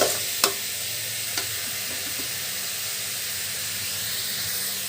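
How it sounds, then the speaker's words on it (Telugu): Garlic and broad beans frying in oil in a pan for an Andhra-style beans fry, a steady close sizzle and hiss with a couple of sharp stirring clinks near the start. "అప్పుడే తెల్లగడ్డ కూడా వేసేద్దామండి ఒకటి రెండు నిమిషాలు వేగనిచ్చేస్తాము"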